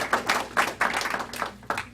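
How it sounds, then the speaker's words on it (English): A small audience claps briefly for a speaker taking the podium at a policy talk, a few sparse, close claps fading out within two seconds. "And you can clap."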